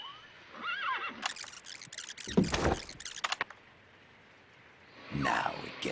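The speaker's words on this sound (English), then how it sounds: "we hear a horse" A horse whinnies in a high, wavering call in the video game Metal Gear Solid Peace Walker, followed by sharp rattling clatters and bursts of noise, ending with another loud neigh.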